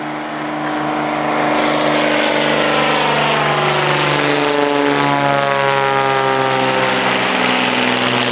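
A small propeller airplane passes overhead in open sky, its droning engine rising in and holding loud and steady with a slowly shifting pitch as it crosses, no voices.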